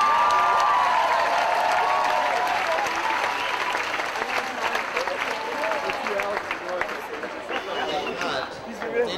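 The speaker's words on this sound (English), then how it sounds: "Let's get a big round of applause for the MPP graduates" Sustained applause from a large commencement ceremony crowd, dense steady clapping filling the room with some cheering mixed in, gradually thinning toward the end.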